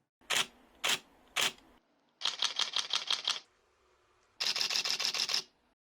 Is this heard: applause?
no